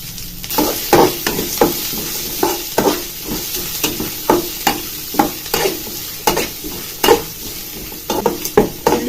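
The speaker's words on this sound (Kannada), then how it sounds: "ಸ್ವಲ್ಪ ಗೋಲ್ಡನ್ ಬ್ರೌನ್ ಬರಬೇಕು ಅದನ್ನು ಚೆನ್ನಾಗಿ ಫ್ರೈ ಮಾಡ್ಕೊಳ್ಳಿ" Chana dal and onion fry in a pan, with a constant sizzle broken by about a dozen regular scraping stir strokes of a spatula against the pan, close and fairly loud.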